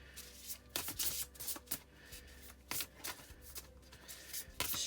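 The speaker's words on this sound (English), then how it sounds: "We'll shuffle it and do one card" Oracle cards being shuffled by hand in bursts of crisp riffling and flicking, close and fairly quiet, with short pauses between passes and no talking.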